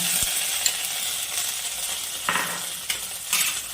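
Chopped chillies and ginger paste fry in a pan with a continuous hissing sizzle, punctuated by a few light metallic scrapes and clinks of stirring utensils.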